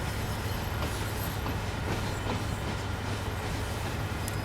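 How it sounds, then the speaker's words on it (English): A BR363 shunting locomotive pulls an empty train in a train simulator game, giving a steady low engine drone with faint rhythmic rail clicks and light wheel squeal throughout, no voices. "I might actually be able to show you what it's doing with an empty train at the moment."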